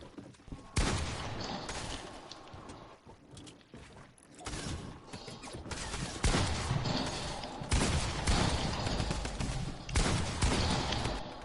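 Repeated bursts of gunfire in Fortnite, loud volleys arriving in several clusters over a busy game background, with no clear talk.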